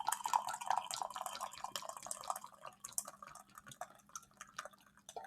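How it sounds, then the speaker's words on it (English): Tea poured into a cup makes a soft, quiet trickle with dripping splashes, stronger at first and then thinning into fainter drips. "the nice noise of the tea pouring"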